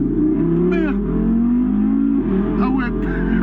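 A 600 hp Audi RS3 accelerates hard uphill, its engine note climbing steadily through the gears, loud and close from inside the car, with a brief exclamation and some talk over the roar.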